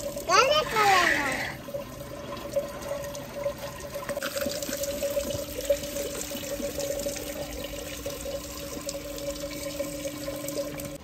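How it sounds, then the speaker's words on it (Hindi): Tomatoes and chillies being washed in water in a village kitchen, with running and splashing water loudest at the start, then a quieter steady wash under a persistent background tone while people talk. "टमाटरों को जो है अच्छे तरीके से धो लिया है, मिर्ची को भी अच्छे तरीके से धो लिया है।"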